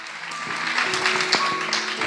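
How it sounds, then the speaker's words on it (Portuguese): A church congregation at a Christmas Day service claps together in a steady, lively burst of applause that fills the room, with faint tonal sounds running underneath. "Você pode aplaudir."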